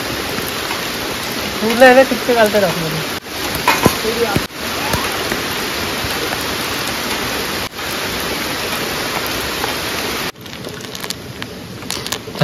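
Steady rain falls at a night campsite in a forest while rice cooks over a fire, a dense even hiss broken by a few abrupt cuts, with someone talking over it.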